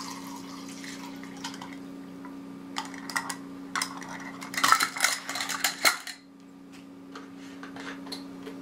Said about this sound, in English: I'm gonna add my 1 cup of alcohol into this.